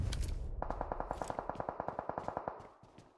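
A rapid automatic burst in PUBG Mobile esports play, about twenty evenly spaced sharp shots in quick rhythm, loud and close, followed by a few trailing reports and fading echo.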